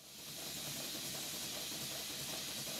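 A twin-cylinder Stuart Victoria model steam engine runs on steam from a small boiler, giving a steady, breathy hiss that swells in at the start and then holds constant and close, with no voices.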